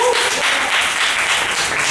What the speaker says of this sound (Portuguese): Palmas para a vida dele.